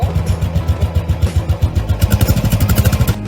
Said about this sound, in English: that iconic thunderous soundtrack from the exhaust